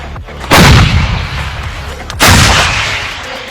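Two heavy blasts from an M777 howitzer about two seconds apart, each a loud, sharp boom followed by a long, rolling rumble that slowly fades.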